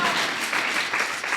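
A congregation at a Sunday church worship service applauds, a steady wash of many hands clapping together, moderately loud and unbroken for the short stretch.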